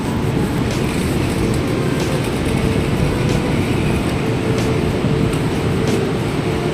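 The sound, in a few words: high-speed train at station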